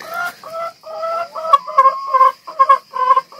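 Hens cluck and chatter in short repeated bursts, close by and fairly loud, with a steady faint high hiss underneath.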